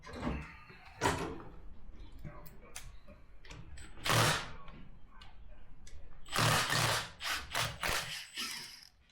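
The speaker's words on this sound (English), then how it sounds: "we can start taking the primary cover bolts out" Bolts are worked loose from the primary cover of a Harley-Davidson Milwaukee-Eight motorcycle, with ratcheting clicks and metallic rasps in several bursts, close up, alongside brief talk.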